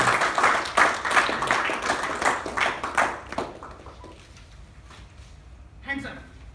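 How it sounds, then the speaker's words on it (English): A crowd claps in sustained applause that gradually fades, with a voice briefly heard near the end. "is dynamic and energetic Toastmaster, Afzal, with a big round of applause."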